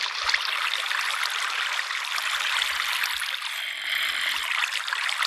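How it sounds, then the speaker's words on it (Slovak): Steady flowing water in a cave in Minecraft, a continuous bright rushing and trickling wash that stays even and close throughout, with faint low knocks scattered underneath and no talking. "Voda v jaskyniach, to je najhoršie."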